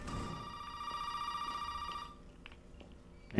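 A telephone rings in the Resident Evil 7 video game, a steady electronic bell tone that stops partway through, followed by faint clicks and a sudden bump at the end.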